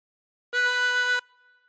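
One sustained drawn note through hole 7 of a harmonica, a bright reedy tone held for under a second before fading, with nothing else heard.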